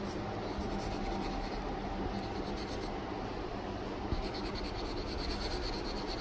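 Oil pastel smeared by finger across oily paper over gray board, a continuous soft scratchy rubbing that stays quiet and close, with no one speaking.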